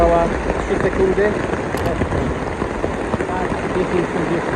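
Heavy rain pours steadily onto packrafts on a river in the Ecuadorian Amazon jungle, a dense close hiss of drops throughout, with voices speaking over it.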